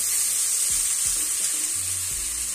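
Raw potato batter sizzles steadily in hot oil in a pan, a constant bright hiss with a few soft low thuds as spoonfuls are dropped in, no voices.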